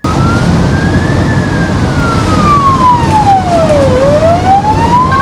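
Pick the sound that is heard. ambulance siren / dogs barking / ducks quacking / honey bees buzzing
ambulance siren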